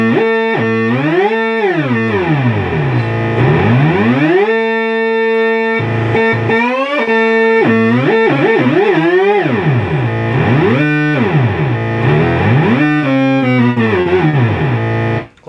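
A 1973 Minimoog Model D synthesizer plays loud, buzzy sustained tones that swoop smoothly up and down in pitch with portamento glides, repeated sweeps and held notes running almost continuously alone.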